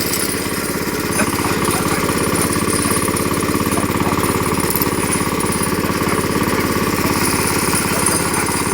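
A walk-behind tractor engine labours in deep snow, a loud, continuous, rapid mechanical chugging at high revs, close to the microphone and steady throughout with no speech.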